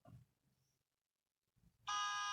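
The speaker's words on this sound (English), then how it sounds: "This is car horns." Car horns blare in a single loud, sustained blast that cuts in abruptly after a short stretch of faint low rumble and near-silence, holding steady to the end.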